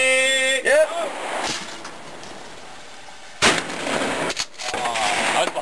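Gunfire in a shooting video game, with a couple of sharp blasts and bursts among electronic game sounds, while someone talks over part of it.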